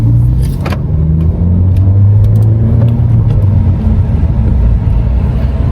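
A manual-transmission car driving on a road, loud steady engine drone and road rumble heard from inside the cabin, with a few gear-related rises and no talk.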